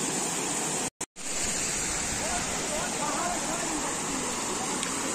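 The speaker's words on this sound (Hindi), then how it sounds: "ये भाई यहाँ से पानी निकलता है जो सीधा इसमें जाता है, ये जंगल से भाई आता है ये पानी" A forest stream in Gurez valley, Kashmir, gives off a steady, broadband rush of flowing water, close and continuous, with a brief dropout near the start.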